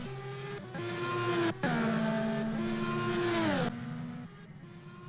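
A McLaren MP4 racing car engine in a sim racing game at Watkins Glen drones at high, steady revs, with sharp gear-shift drops and rising pitch, loud and close, with no voices.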